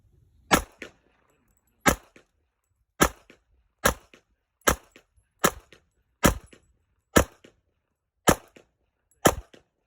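An HK45 pistol fired in a slow, regular string of about eleven sharp, loud gunshots, each separated by roughly a second, with no talking.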